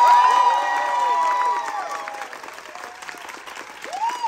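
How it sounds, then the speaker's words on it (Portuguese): Applause for a mother and son in a cinema crowd, clapping mixed with cheering and chatter, steady at first then fading, with a rising whistle-like tone near the end. "Uma salva de palmas para a mãe e o meu filho que estão aqui."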